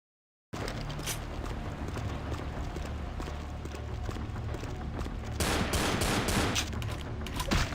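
A gun fires in the video game VTM: Bloodlines. After a moment of silence, a fast, even stream of sharp shots rattles on steadily and grows a little louder and denser near the end.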